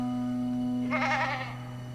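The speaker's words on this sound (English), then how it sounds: "we came upon a herd of funny-looking goats" A herd of goats near a village in Oman bleats in a brief burst of several overlapping, wavering calls close by, over a steady low hum.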